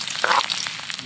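Ginger pieces dropped into a cup of hot cooking oil give a brief, close bubbling sizzle that swells for a moment and then settles into a steady crackle.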